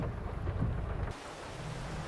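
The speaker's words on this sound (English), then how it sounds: "Okay, so what can we do in the rain?" Steady heavy rain with a deep rumble of thunder in Farming Simulator 22, on a farm in Korpi, Finland; the rumble fades partway through, leaving the constant hiss of rain alone.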